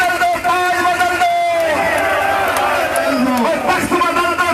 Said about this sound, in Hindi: जरा आजाद साहब जरा हाथ खड़े करके जोरदार ताली बजे